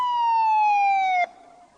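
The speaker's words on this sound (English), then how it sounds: "A police car came to the telephone box." A police car siren sounds as a loud, close, single sustained wail that glides slowly downward, then cuts off abruptly and leaves a faint fading tail, with no voices.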